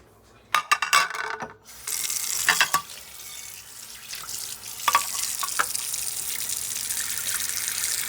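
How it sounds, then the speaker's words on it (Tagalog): Water splashes and pours into a pot of beef sinigang being cooked, a few sharp clatters first, then a steady rushing flow from a tap or pitcher, close and fairly loud. "Dagdag mo ng tubig."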